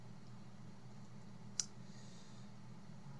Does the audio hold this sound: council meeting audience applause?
no